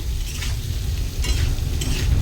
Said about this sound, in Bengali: আলুটা ভেজে লাল লাল করে আলুটা একটু ভেজে নেব